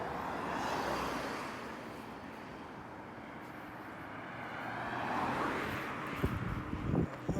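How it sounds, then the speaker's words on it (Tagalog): Fast cars rush past on a road, a continuous roaring wash with two broad swells as vehicles go by, thick with wind buffeting the microphone. "Mabibilis nga kasi sasakyan dito."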